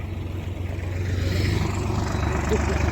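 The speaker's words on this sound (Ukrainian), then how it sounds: "Так, завантажуємо. Тракторець їде" Solis 50 tractor running during loading, a steady low close engine drone that holds and slightly builds over a few seconds, with outdoor background noise and talk mixed in.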